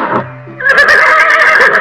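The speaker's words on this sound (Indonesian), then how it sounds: "Wow, ini ada kuda." A horse whinnies loudly and clearly in Jurassic World Evolution 2, a long shrill neigh rising after a brief lower lead-in, with no talking.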